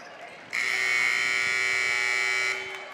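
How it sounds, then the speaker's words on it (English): An end-of-game buzzer at a girls' district basketball game sounds as one loud, steady electronic tone lasting about two seconds, rising abruptly over gym crowd noise and then cutting off. "As the buzzer sounds,"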